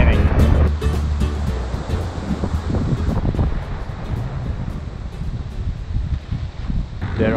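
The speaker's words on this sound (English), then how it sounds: "Waves kinda going bigger and bigger." Ocean surf breaks and washes steadily on a beach at Sihanoukville, Cambodia, in rain, with waves building in size; a loud, continuous roar with surges and wind buffeting the microphone throughout.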